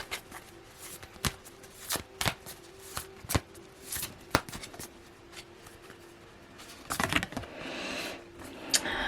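Tarot cards being shuffled and pulled from the deck, a run of sharp riffling snaps and soft slides at close range with brief flurries of card handling, no talking.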